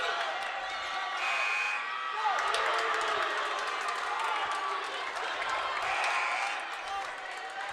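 A dense crowd roars and claps throughout a men's college basketball game against St Francis, a steady wash of cheering with occasional louder swells.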